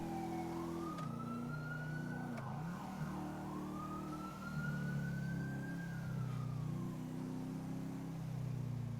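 A slow wailing emergency siren from an AI vehicle in FiveM GTA roleplay rises and falls over a heavy engine drone, loud and continuous.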